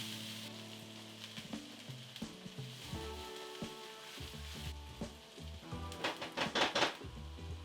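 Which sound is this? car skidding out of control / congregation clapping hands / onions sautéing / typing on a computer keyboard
onions sautéing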